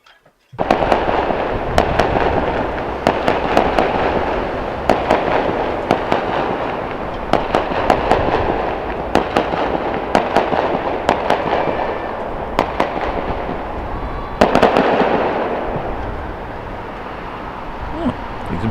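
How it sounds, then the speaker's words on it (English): Fireworks go off for a cruise ship departing the Port of Southampton, with sharp cracks and bangs popping irregularly over a dense, constant roar of crowd and harbour noise throughout. "Fireworks."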